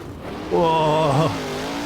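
Sprint cars racing at Premier Speedway in the rFactor video game: a loud engine whine rises sharply, holds a high revving drone, then drops away into a steady lower rumble.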